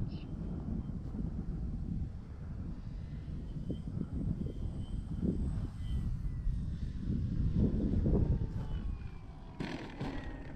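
An E-flite CZ T-28 RC airplane flies in strong wind, its faint high motor whine drifting past beneath heavy, steady wind buffeting on the microphone, with occasional low voice sounds.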